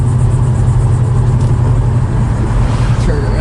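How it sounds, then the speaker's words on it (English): A 1971 Plymouth GTX driving down the road, its deep V8 rumble loud and steady from inside the car, with a faint rise as it accelerates and someone talking over it. "Car pulls well, it goes down the road straight as an arrow"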